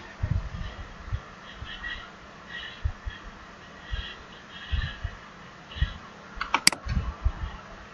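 Keys on a computer keyboard are tapped in short, uneven bursts of close, crisp clicks on a Windows 10 PC, with brief pauses between keystrokes and one sharper click near the end.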